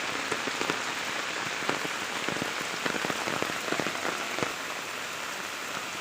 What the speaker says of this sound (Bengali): সারাটা দিন এভাবে বৃষ্টি পড়তেছে।